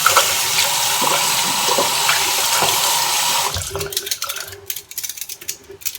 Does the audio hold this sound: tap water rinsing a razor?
yes